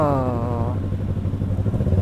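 Motorcycle engines idle and rumble close by while the bikes queue in a traffic jam on a touring ride in Indonesia. A rising whine fades early on, and the engines then settle into a steady putter.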